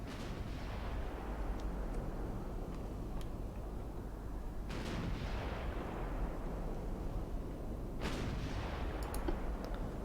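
Naval gunfire in Ultimate Admiral Dreadnoughts, with 1900-era British warship guns firing at a light cruiser. A steady roar runs throughout, and sharp booming salvos hit at the start, near 4.7 seconds and near 8 seconds, with no talk.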